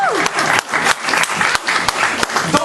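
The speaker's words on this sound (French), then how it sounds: "une acclamation pour elle." A church congregation breaks into loud, close applause during a French-language sermon, dense clapping with a few cheers and sharp accents running throughout.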